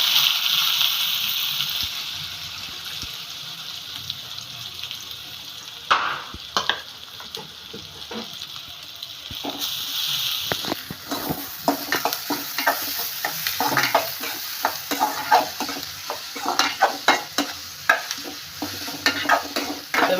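Chopped onions tipped into hot oil with cumin for prawn thokku, a loud initial hiss and gush that settles into steady sizzling, then crisp clattering stirring in the pan, near and without speech.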